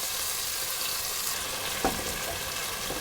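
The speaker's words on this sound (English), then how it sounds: "I'm going to cook mine on the stove top." Steak slices fry in a pan on a stove top, making a constant soft sizzle with one brief knock partway through and no voices.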